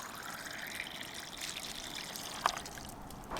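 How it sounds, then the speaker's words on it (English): Water trickling from a public water point during a long-distance walk across Britain, a faint, steady dribble with a couple of brief splashy peaks near the end. "These are just like water points, so we can top up."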